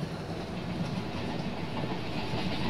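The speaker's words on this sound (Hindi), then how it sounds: "वैसे ट्रैक साउंड इतने मजेदार आ रहे हैं ना अभी राइट नाउ" Train wheels run over the track in Indian Train Simulator on a Jabalpur–Bandra Terminus superfast special, making a steady, dense rumble with a continuous clickety-clack and no talking.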